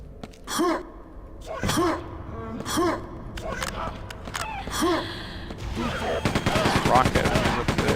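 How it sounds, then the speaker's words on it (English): Weapon fire in the video game Quake 2, with blaster, machine gun and shotgun: several separate loud single shots spaced about a second apart, then a sustained rapid burst of automatic fire over the last two seconds. "Blaster, machine gun, shotgun."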